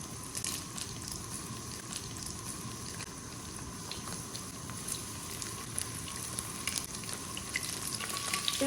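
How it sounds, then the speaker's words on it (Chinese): Fish pieces pan-frying in lard in a hot pan for Henan-style fish, giving a steady, even sizzle and crackle that runs unbroken from start to finish, close and moderately loud with no talking. "用猪油煎制更加的香"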